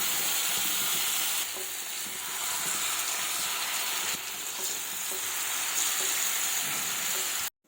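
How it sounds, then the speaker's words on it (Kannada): Bangude mackerel frying in hot coconut oil, a loud, dense, continuous sizzle and crackle close up, with brief shifts in intensity and a sudden cutoff at the end; no voices. "ಫ್ರೈ ಮಾಡ್ಕೊಳ್ಳಿ ಮೀನನ್ನು ಹಾಕೊಳ್ತಾ ಇದ್ದೇನೆ"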